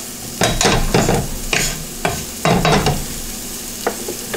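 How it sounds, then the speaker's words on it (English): Food being stir-fried and tossed in a wok: repeated bursts of loud sizzling and scraping as the contents are flipped, in irregular rhythm with brief quieter gaps, close and with no talking. "There's a wok toss there for you guys."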